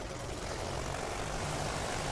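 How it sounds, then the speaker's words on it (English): Propeller-driven airship engines in the online game Worlds Adrift spin up, a steady broadband drone with a low throbbing hum that holds level throughout, close and loud, with no voices. "I'm going to start the engines up"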